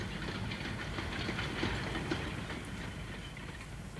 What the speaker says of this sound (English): that little train, which rattles along between Richmond and Broad Street